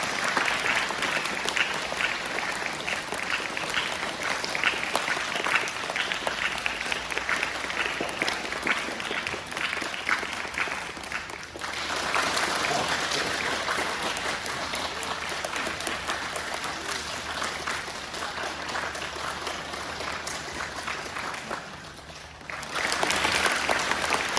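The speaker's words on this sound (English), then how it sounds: "You guys have to clap." An audience claps along as Warren conducts, producing dense sustained applause that briefly slackens and picks up again, dips near the end, then swells once more.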